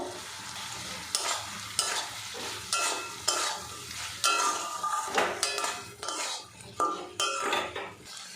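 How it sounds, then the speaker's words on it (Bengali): Fried jackfruit pieces go into a dal and spice masala, stirred with a metal spoon that clinks and scrapes against the pot in repeated strokes over a soft sizzle. "এবারে এর মধ্যে দিয়ে দেবো ভেজে রাখা এঁচড়গুলো।"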